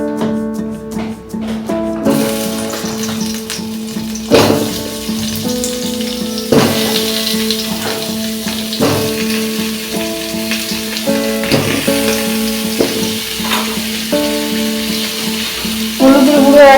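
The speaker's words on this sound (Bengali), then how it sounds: "প্রথমে আলুটাকে ভেজে নেব" Potatoes fry in mustard oil in a wok with a bright, crackling sizzle and sharp splattering pops, under steady musical tones playing throughout.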